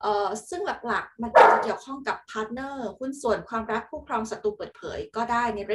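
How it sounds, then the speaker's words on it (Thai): A dog barks somewhere in the background in a brief burst, partly buried under steady, continuous speech that runs through the whole stretch. "ขอโทษทีเสียงหมาเห่าเนาะ"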